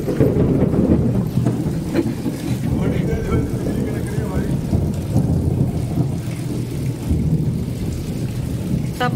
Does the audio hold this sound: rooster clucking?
no